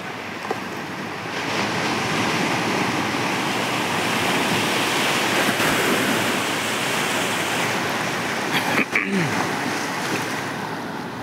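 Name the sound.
sea waves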